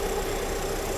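A VW Passat GL engine idles at about 800 rpm after distributor repair, giving a steady, close, even hum throughout the short stretch.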